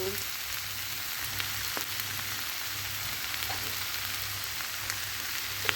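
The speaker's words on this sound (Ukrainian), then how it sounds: "Поки перша порція капусточки підсмажувалася, зменшувалася у об'ємі" Grated cabbage frying in a pan gives a steady, even sizzle with faint crackles and an occasional soft stir or tap, heard close and unbroken.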